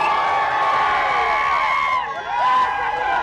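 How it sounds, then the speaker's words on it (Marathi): Mahayuti party workers in Nandurbar cheer and shout loudly to celebrate the 2024 Assembly Election results, a dense, continuous crowd roar with whoops. "महायुतीच्या कार्यकर्त्यांनी आतापासूनच जल्लोष करायला सुरुवात केली आहे।"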